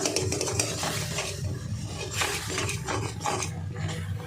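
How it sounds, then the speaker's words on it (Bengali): Flour is stirred little by little into boiling water in a pot to make pitha dough, with constant close scraping and light clinks of a utensil against the pot and no talking. "দেখুন জলটা ফুটে উঠেছে আমি অল্প অল্প করে ময়দা দেব আর এরকম নাড়তে থাকবো"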